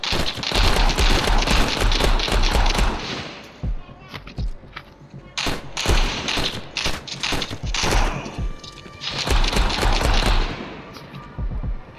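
Gunfire in a gangster video game set in New Orleans: loud bursts of rapid shots come in clusters with short gaps between them, close and heavy, and a voice talks through parts of it.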